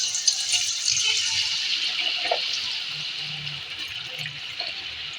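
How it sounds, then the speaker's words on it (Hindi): Potato fries sizzle in hot oil in a pan, giving a steady, close hiss that stays fairly even and slowly softens, with a few faint pops underneath. "और इसे अब हम फ्राई करेंगे।"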